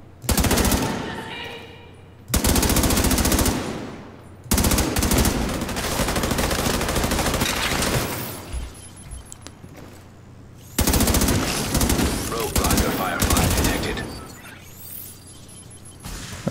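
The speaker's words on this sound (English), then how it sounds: "She definitely has an LMG." Light machine gun fire in The Division 2, loud sustained bursts of automatic shots in several long volleys with brief pauses between, close and dominant, with occasional voices in the mix.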